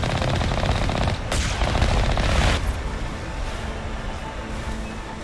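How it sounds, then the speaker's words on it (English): A cannon in Mass Effect pounds out rapid, loud automatic fire for a few seconds, then cuts off, leaving a lingering rumbling tail. "these are so easy to take out with this cannon,"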